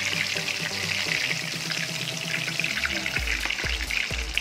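A chicken cheese pocket frying in oil, a continuous soft bubbling sizzle with a few low thuds near the end as the pan is handled, quiet and close with no voices.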